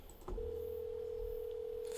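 A telephone rings during a call, a steady electronic tone beginning after a short click and holding unbroken to the end, fairly loud and close over faint background hiss, with no talking.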